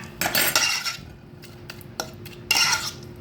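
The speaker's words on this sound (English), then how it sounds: "now I'm going to mix those up" Utensil stirring and mixing ingredients for lemon pepper swordfish in a bowl: two bursts of scraping, clinking strokes with a few sharp taps between, close and fairly quiet.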